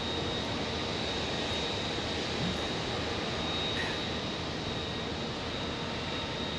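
An Airbus A321neo jet bound for LAX departs Phoenix Sky Harbor Airport, a loud continuous engine roar that holds steady throughout with no voices.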